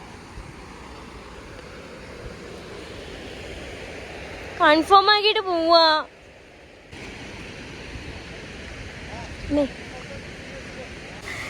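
A waterfall in Meghalaya gives a steady, broadband roar that holds through the whole stretch, with a short burst of nearby talk partway through and a faint voice later.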